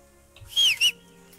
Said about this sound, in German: Warum pfeift der immer?